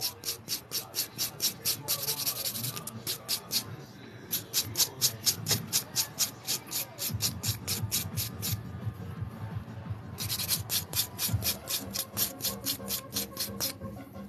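Electric nail file beveling the inside of a sculpted XXL stiletto nail, a rapid buzzing grind in steady repeated passes with short pauses, close and fairly quiet.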